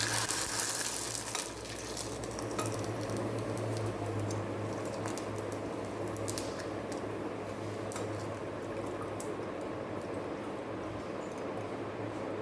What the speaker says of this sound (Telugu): హీట్ ఎక్కిన తర్వాతే వడియాలు ఇలా వేసుకోవాలి.